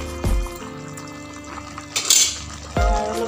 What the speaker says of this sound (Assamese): এতিয়া মই পানী দি দিছোঁ গৰম পানী